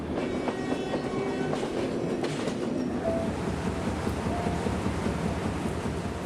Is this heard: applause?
no